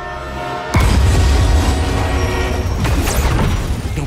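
A loud, sustained rumbling roar with metallic clatter and rushing noise as a brakeless train barrels past at close range in the video game Marvel's Spider-Man 2.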